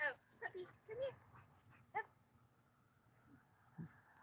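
A little puppy at a prairie home on a clear night lets out a few faint, high whimpers and yips in quick succession, then falls mostly quiet against a soft outdoor background.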